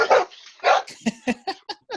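A dog barks close by, with two louder barks followed by a quick run of shorter yips.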